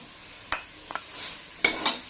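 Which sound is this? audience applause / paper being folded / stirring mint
stirring mint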